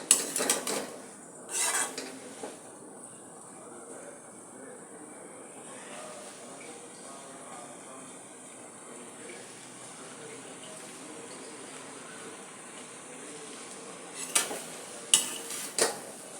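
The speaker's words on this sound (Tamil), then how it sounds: "இந்த பருப்பு, மிளகுத்தூள் எல்லாம் எல்லா காயிலையும் நல்லா பற்றாக்கி நல்லா கலந்து கொடுத்துடுவோம்." Vegetables tossed with lentils and ground pepper in a pan for a pepper-cumin stir-fry, metal utensil clanks and scrapes at start and end with quieter stirring between, close and moderately soft, no talking.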